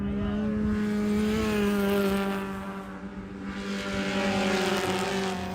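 Race cars at NOLA Motorsports Park during a Hoosier Super Tour event drone past on the track, a loud sustained engine whine that swells, dips briefly as one passes, then builds again with another car.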